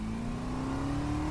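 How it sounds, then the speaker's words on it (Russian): A car engine revs close by, a steady droning pitch that climbs slowly and evenly over a short moment, with no talking. "Нормально движок звучит."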